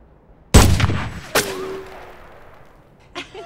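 Gunshots fired at a shooting range in an action sci-fi thriller film: two sharp, loud close reports about a second apart, the second trailing a long ringing decay, then a faint click near the end.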